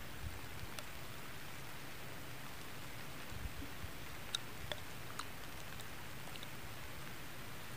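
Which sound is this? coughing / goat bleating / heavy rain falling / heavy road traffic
heavy rain falling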